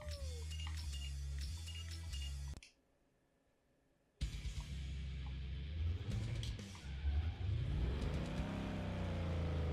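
A Lincoln Navigator in the Need For Speed Underground 2 video game revs loudly, cuts to near silence for a moment, then roars back with rising engine pitch and sustained acceleration.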